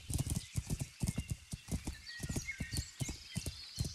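Horse hooves clip-clop in a steady, quick rhythm in the medieval video game Kingdom Come: Deliverance, with a brief whinny and some ambient game sounds, close and fairly loud throughout.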